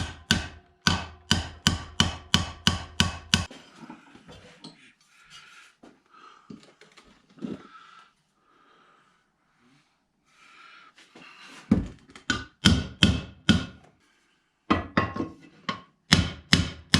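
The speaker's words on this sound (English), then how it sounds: "Start kind of hammering it into the hole a little bit here." Hammer blows driving a metal exhaust flange into a hole during turbo fabrication on an LS Camaro, loud sharp strikes in quick steady bursts with a quiet pause in between, close up.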